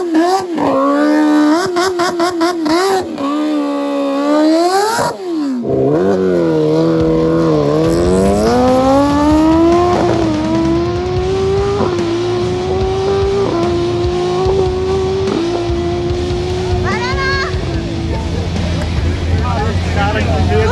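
A Kawasaki Ninja H2 motorcycle engine revs hard and loud, with rapid blips early on and then a long sustained high-pitched wail, while people talk over it.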